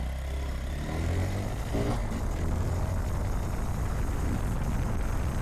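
A 2023 Honda Monkey 125cc motorcycle pulls away from a stop at full throttle on an empty street, its engine note climbing in pitch as it revs up and holds a strong, steady drone.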